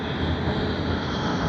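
A Delta jet airliner on the Los Angeles to Sydney flight touches down at Sydney Airport. It gives a steady, loud, broadband roar of engine and rushing air with no voices.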